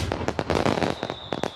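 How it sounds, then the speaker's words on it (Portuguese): Gunpowder fireworks burst in a rapid series of sharp cracks and pops, some overlapping into a dense crackling roar, with a thin whistling tone trailing through the latter half. "Antes era usada em fogos de artifício"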